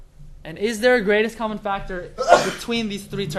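A student sneezes once, loud and close, in the middle of a teacher explaining a math problem, the burst cutting sharply through continuous speech around it.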